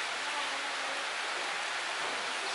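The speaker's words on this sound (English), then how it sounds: "It's a rainy day." Rain on a dull, rainy day: an unbroken, even wash of broadband hiss that holds steady at a moderate level for the whole short stretch, with no voices.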